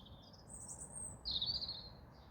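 A small bird chirps near a garden pond, with two or three short high tweets, the last one a little louder and closer, over a soft outdoor background hum.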